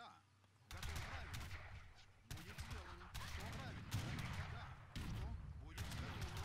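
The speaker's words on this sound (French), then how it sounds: "Non, les canons, Omar." Cannon fire crashes out in an Age of Empires III 3v3 match, arriving as several heavy booming volleys with rumbling tails, quiet and somewhat distant beneath the game's mix, while players chatter in French over it.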